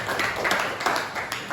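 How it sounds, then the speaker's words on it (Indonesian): Students clapping their hands in a classroom, a short burst of uneven claps at moderate loudness, several hands out of sync. "Oke, tepuk tangan"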